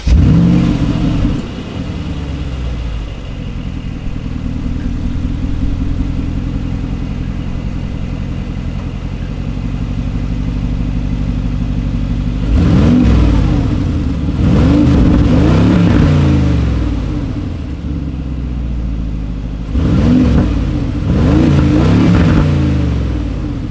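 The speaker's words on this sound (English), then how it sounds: "we do also have the optional performance exhaust" A 2020 Mercedes G-Wagon G550 with optional performance exhaust idles with a deep rumble, then revs hard in several loud bursts of throaty exhaust toward the end, close by.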